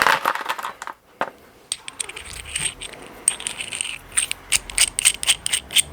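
A hand punch set drives a small bolt hole through material resting on a block of wood. Close, sharp metallic taps and clicks come in an irregular run with brief gaps.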